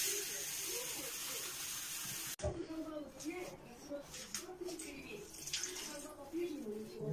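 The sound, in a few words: water poured into a pot of chicken soup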